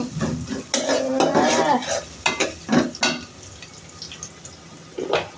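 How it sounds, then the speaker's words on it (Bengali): Onions and chillies fry in a pan while being stirred until browned, for a shrimp curry: loud, close sizzling with repeated scraping strokes of a spatula, then fading to a quieter fry before one last stir. "এবার এগুলাকে নাড়াচাড়া করে লাল লাল হওয়া পর্যন্ত অপেক্ষা করা লাগবে"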